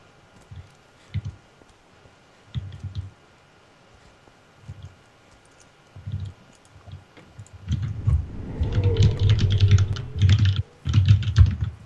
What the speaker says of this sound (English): It's like he's racing against time to type.